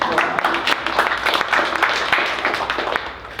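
A small crowd at a writers' reading night in a bookstore applauds, scattered clapping that swells briefly and then tapers off within a few seconds.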